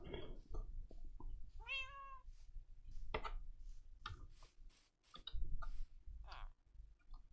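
A cat in the video game Minecraft meows once in a clear rising-falling call, amid scattered clicks and soft game noises at low volume.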